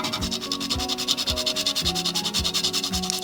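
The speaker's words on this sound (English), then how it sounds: "Here we have some nutmeg, and we're going to go ahead and grate that." Fresh whole nutmeg rubbed across a grater in a home kitchen, a steady rhythmic rasping scrape repeating several times a second, close and fairly loud with no talking.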